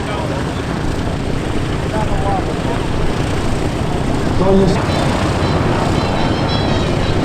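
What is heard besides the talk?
Twin Beech airplane flying aerobatics overhead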